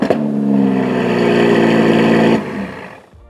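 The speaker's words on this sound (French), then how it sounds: "La sonorité de son V12 biturbo 5 litres 2 de 710 chevaux rugit à travers son quadruple échappement." An Aston Martin DBS Superleggera's 5.2-litre twin-turbo V12, 710 horsepower and a quad exhaust, roars loudly through a sustained rising pull, then cuts off abruptly and fades away.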